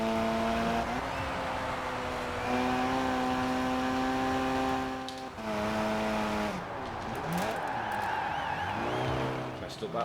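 Engine of a car driven in the Forza racing video game, a sustained tonal drone that holds steady, then shifts pitch with gear changes and revving, with a voice talking over it.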